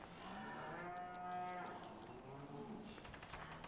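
Cattle lowing in the farming video game Farming Simulator 15 on a modded map, a long drawn-out moo with a rising tone, accompanied by a rapid series of short clicks and ticks, moderately close.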